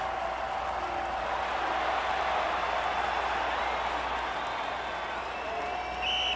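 Applause from a crowd at a marble race, a steady wash of clapping that holds at even loudness for several seconds, with a faint commentator voice underneath.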